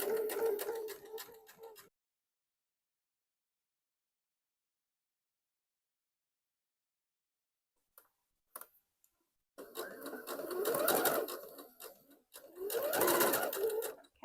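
A sewing machine stitches a wrap dress in short whirring runs. A brief burst is followed by a long silence, then a few clicks and two longer close stitching runs.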